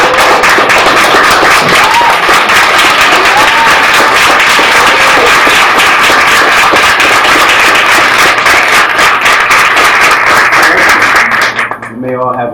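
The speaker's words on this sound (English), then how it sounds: "give them a round of applause." A large audience at a Human Resources program commencement claps loudly and continuously for the graduating class, dense applause filling the room for several seconds before quickly fading out.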